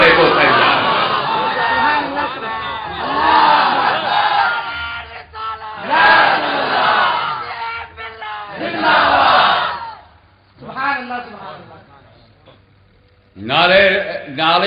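A large crowd at a religious gathering chants the Nara-e-Takbeer, answering Allahu Akbar in loud, repeated roaring waves with short pauses between calls, filling the hall.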